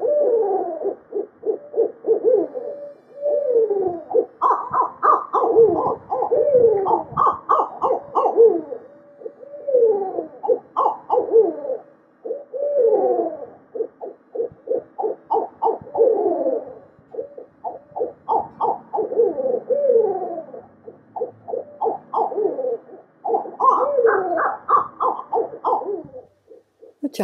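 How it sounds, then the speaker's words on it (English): A pair of barred owls duet in a long, loud run of rhythmic hoots and rising cackles that overlap and swell in waves, the two birds calling back and forth with no other sounds. "This one's mate is about to join him for a demonic duet."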